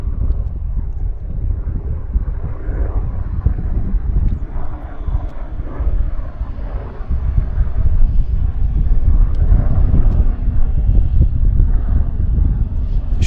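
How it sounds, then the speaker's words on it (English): Air Canada heavy airliner Flight 301 from Montreal on approach to Vancouver, a loud steady low engine roar with wind buffeting throughout, swelling slightly toward the end. "we've got Air Canada Flight 301 from Montreal, setting up on approach right here"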